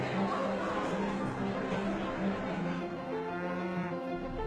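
Young Angus heifers, about a year old, low on a farm at an old estate with stables, with several deep bellowing moos overlapping in a steady, moderately loud chorus and no talk.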